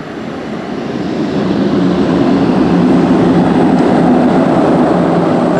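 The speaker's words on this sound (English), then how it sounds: "Sunday, another flight landing in Bilogai." A small airplane lands at the airstrip in Bilogai, Papua, with a loud, steady engine roar that builds over the first seconds and then holds a constant broadband drone.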